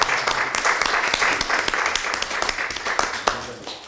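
Applause at a Democratic Party of Korea supreme council and national committee chairs' joint meeting, a brisk, even round of clapping from a roomful of people, steady and then gradually thinning.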